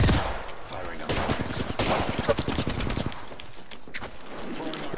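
Rapid automatic gunfire from a video game rattles in dense bursts, loud and close, with overlapping shots and a short pause before firing resumes.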